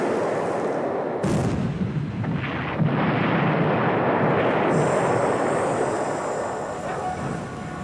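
A torpedo hit explodes in the naval strategy video game War in the Pacific, a loud, sustained rumbling blast that fills the whole clip with a sharp burst partway through.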